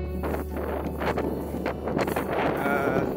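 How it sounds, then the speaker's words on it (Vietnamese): Strong outdoor wind buffeting the microphone at a former military airfield, constant loud low rumble and gusty bursts, with a person talking faintly underneath. "Tình hình là trời đang rất là gió, nên là mình có xin lỗi nếu như âm thanh không được hoàn hảo lắm."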